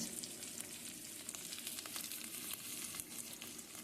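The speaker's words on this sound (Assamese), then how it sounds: "এইখিনি ভালদৰে ৰঙা চুৱাকৈ ভাজি লওক" Onions frying in a pan for khichdi, a soft, even sizzle with faint crackles and light stirring, quiet and continuous with no voices.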